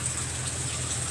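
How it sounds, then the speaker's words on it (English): Steady rain falls outside at night, a continuous close wash of hiss and patter with no pauses and no voices. "it is raining even harder"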